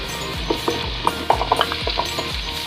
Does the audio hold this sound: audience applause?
no